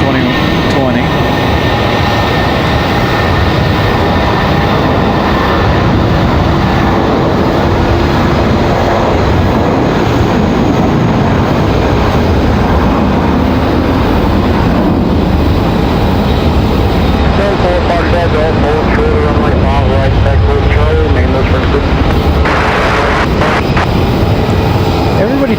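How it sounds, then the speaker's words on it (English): A JetBlue Airbus A320 taking off at Raleigh-Durham International, a continuous loud jet roar filling the whole stretch, with people talking over it. "JetBlue taking off in their"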